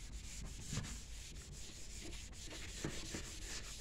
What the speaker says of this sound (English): You can hear the abrasives in this product.